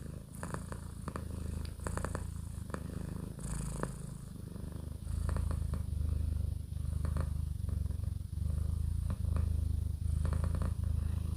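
Loud, close purring from a cat rumbles on without a break, its rough breathing rhythm pulsing steadily and growing a little stronger in the second half, with no voices.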